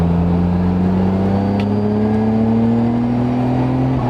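A Nissan Skyline R33 GTR twin-turbo pulls flat out in third gear from about 3,500 RPM, its engine note climbing steadily and loudly over four seconds as revs build, heard from inside the car.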